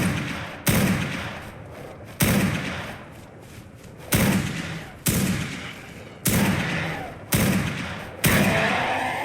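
Six heavy, sharp gunshots from a standard gun, not a shotgun, in the video game ARK: Survival Ascended fire about every one to two seconds, each bursting loud then decaying into a reverberant tail.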